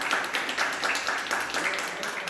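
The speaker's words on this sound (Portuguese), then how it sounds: "E uma salva de palmas." Applause from a group at a health unit tribute honouring a nursing technician, a steady patter of clapping that runs continuously at moderate loudness throughout.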